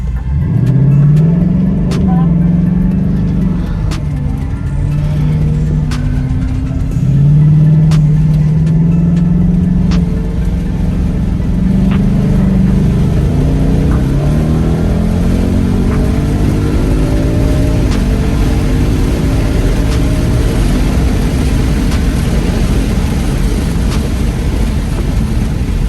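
A Ford Mustang and a Koenigsegg Regera drag race on an airfield: loud engine roar climbs steadily in pitch through repeated gear pulls, sustained and close for the whole stretch with no talking.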